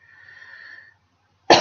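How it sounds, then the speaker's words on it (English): A single sharp cough, loud and close, bursting out after a faint hum and a brief silence. "That needed a cough at the end of that sentence, didn't it?"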